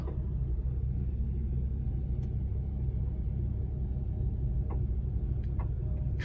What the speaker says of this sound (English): this car is making a like banging noise as the brakes cool down